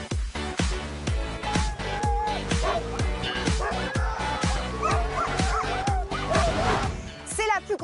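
Sled dogs at the start of a long stage race bark and yip in a rapid, continuous chorus, loud and close, with whimpers mixed in and a voice briefly audible over them.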